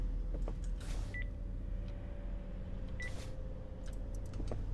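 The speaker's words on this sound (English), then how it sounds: "The phone was ringing for a second." A telephone rings in a horror game: two short electronic tones, a couple of seconds apart, sound faintly over a low hum and rumble.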